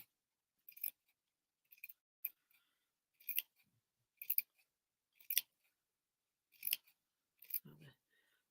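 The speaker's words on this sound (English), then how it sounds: "So just cutting little lines all the way along." Fabric scissors snip little slots along folded felt for a flower wreath: about eight crisp, close cuts come in a steady, unhurried rhythm with quiet pauses between them.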